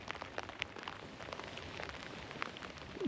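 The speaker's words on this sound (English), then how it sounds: "Man, that rain is coming down." Cold rain falls steadily on a local lake, a soft continuous hiss of drops with scattered sharper patters, close and even, with no talking.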